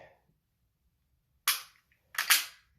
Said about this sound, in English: I have to re-rack the slide slightly on this Glock in order to